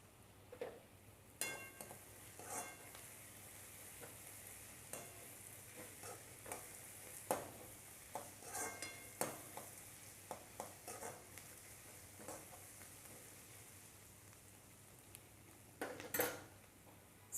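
Three to four green chilies frying in a pan over a high flame, a faint steady sizzle broken by scattered clinks and stirring scrapes of a utensil against the pan, no talking.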